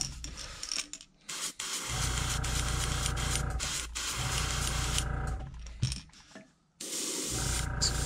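An airbrush sprays paint onto a yellow perch fishing lure with a close, steady hiss over a low hum, breaking off briefly several times before starting again.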